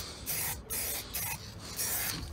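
Spray can paint is applied to a Toyota crossmember in short bursts, four or five hissing sprays separated by brief pauses, close and fairly quiet with no talking.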